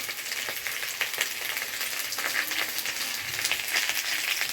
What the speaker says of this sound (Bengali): এবার এই আলুগুলোকে লাল করে ভেজে নেব।